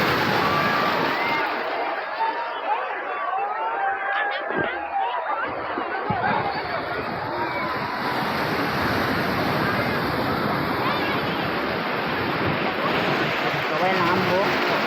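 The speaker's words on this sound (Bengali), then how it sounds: "সমুদ্রে চলে এসেছি, সবাই নামবো এখন।" Sea waves on the beach at Digha roll in with a continuous, loud, close rushing roar and wind buffeting the microphone.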